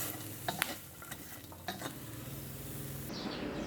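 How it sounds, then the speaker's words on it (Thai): Chilies, garlic and shallots are dry-roasted and stirred in a pan, a brief close scraping and rattling of the spatula over a soft, even sizzle, with no talking. "คั่วพริกกระเทียมให้มันหอมเลยนะครับใส่กระเทียมเยอะๆใส่หอมแดงเยอะๆครับ"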